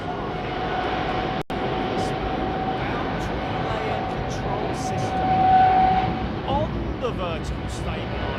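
Aircraft at London Heathrow Airport, a steady broad engine roar that swells gently toward the middle, moderately distant, with a brief whine and a sharp click partway through.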